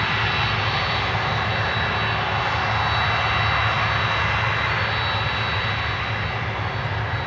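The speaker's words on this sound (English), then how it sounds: "Aero Mexico 737. Go around." An Aeromexico Boeing 737 roars through a go-around at the runway, its jet engines producing a loud, sustained, steady rumble and hiss from a distance with no pauses.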